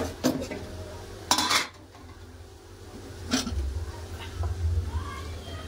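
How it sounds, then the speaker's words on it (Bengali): Boiled radish greens tipped out of a metal pot, with sharp clanks and scrapes of the pot at the start and middle and a soft splash between, close by and without speech. "সিদ্ধ হয়ে গেছে, এবার ঢেলে নেবো।"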